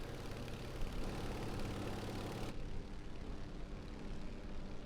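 Steady drone of an Antonov An-2 biplane's engine heard from inside the aircraft, a continuous loud rumble with no pauses, running alone without talk.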